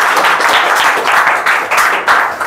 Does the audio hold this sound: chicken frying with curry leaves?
no